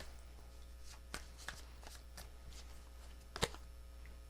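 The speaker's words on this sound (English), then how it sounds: "2 more shuffles." Tarot cards are shuffled by hand at close range, with soft riffling and sharp slaps of cards at irregular moments. One crisp snap near the end stands out over a quiet background hum.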